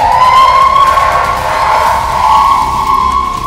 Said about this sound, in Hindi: सायरन की साए साए आवाज खार्किव में दहशत और खौफ पैदा कर रही है